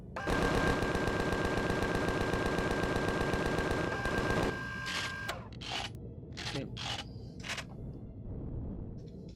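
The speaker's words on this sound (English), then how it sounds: "Use the guns to attract them." Rapid automatic gunfire from weapons in the video game Empyrion Galactic Survival, a dense, loud, steady stream of shots for several seconds, then scattered bursts and single shots with mechanical clatter.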